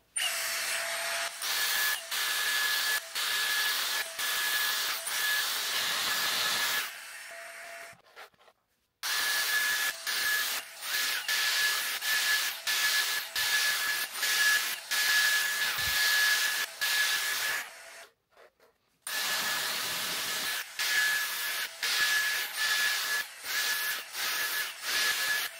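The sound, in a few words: Dyson Airstrait hair dryer-straightener drying hair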